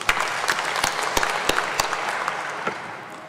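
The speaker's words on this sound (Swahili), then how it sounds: "Tumpigie makofi." Congregation applauding during a Kikuyu Sunday church service, with a steady wash of clapping and a few sharp, louder individual claps standing out.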